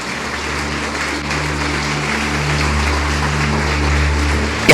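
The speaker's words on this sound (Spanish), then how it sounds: "¿Cuántos aplauden al Eterno?" A church congregation applauds in a steady, dense wash of hand claps, close and sustained, with a low hum under it and no clear speech.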